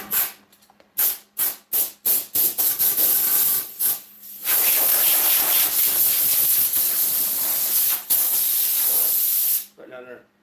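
A sprayer gives a series of short hissing bursts near a rear engine motor wrapped in a plastic bag, then one long, steady, loud spray that stops abruptly with a brief pause and a final burst.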